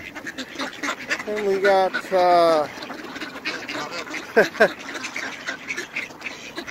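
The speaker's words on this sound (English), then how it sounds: "We got the Green Lake Duck on me here" Ducks at Green Lake quacking in several short nasal bursts, close by, mixed with someone talking and outdoor background noise.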